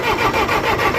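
A Farmall 504 tractor engine, cold-started while a fuel issue is being fixed, chugs and rumbles steadily up close in a brief, loud burst of running.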